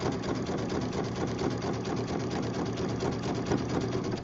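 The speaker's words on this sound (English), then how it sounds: "I'm going to drop my needle, and now I'm going to zigzag all the way down to the other end." Close and loud, a sewing machine hums continuously at a steady pace while zigzag stitching along the edge of a quilt strip, its rapid needle rhythm unbroken throughout.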